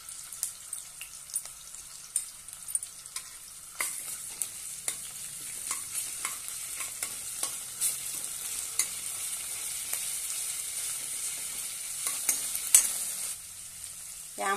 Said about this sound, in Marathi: छानपैकी परतून घेऊया। आलं लसणाची पेस्ट घालूया।